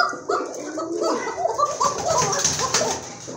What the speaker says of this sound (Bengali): এটা কিন্তু খুবই সুন্দর অ্যারাবিয়ান কোকা, খুব ভালো ডাকে